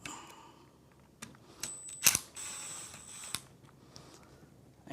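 Two faceplate screws being backed out of a mortise lock: faint mechanical clicks and small scraping ticks in a quiet room, with one sharper metallic snap near the middle.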